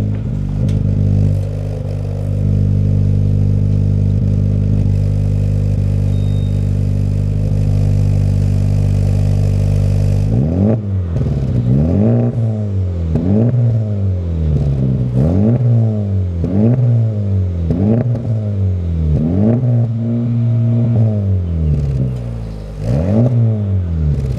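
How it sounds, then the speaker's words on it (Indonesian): A Honda Civic Type R engine idles in a workshop with a deep steady rumble, then revs repeatedly in sharp throaty bursts through a loud, open Apexi muffler exhaust, close by. "Ini pasti akan terdengar suara lebih kencang dan mufflernya terbuka langsung."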